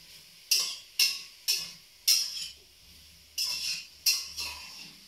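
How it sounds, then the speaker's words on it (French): A spoon stirs chorizo in a saucepan for jambalaya, six distinct sharp scraping strokes evenly spaced, close and fairly loud, with a faint hum under them. "Je remue."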